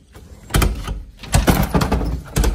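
Someone yanks and rattles a locked door in a school stairwell, several loud, close clunks and thuds coming in uneven bursts, with no talking.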